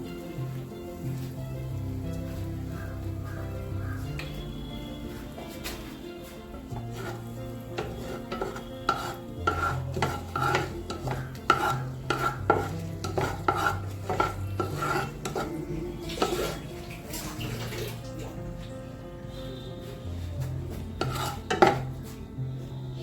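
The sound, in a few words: asafoetida (hing) being added and stirred in hot oil tempering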